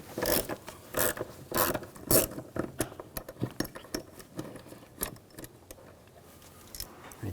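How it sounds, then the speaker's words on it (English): A 5mm hex socket on a ratchet backs out a screw while a crankshaft position sensor is replaced on a 2007–2013 BMW X5 3.0L inline-six, giving quick uneven metallic clicks and rasps close by. "Now using a 5mm hex socket"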